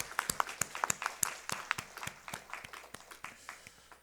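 A church congregation applauds at a Christmas thanksgiving service, a crisp scatter of many hands clapping at once, steady and moderately close, fading slightly toward the end with no talking over it.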